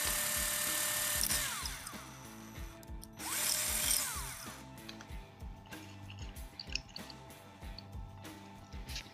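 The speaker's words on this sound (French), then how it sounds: "Puis ensuite on peut percer." Power drill boring holes in a plastic sheet for LEDs on a rainbow mood lamp, two whining drilling bursts close by, followed by clicks, taps and handling noises.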